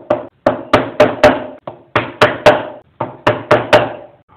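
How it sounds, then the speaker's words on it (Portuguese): Hammer striking the end of a wood chisel while carving wood, a dozen sharp close knocks in quick uneven groups, each ringing briefly. "É segurar a ponta do formão e bater."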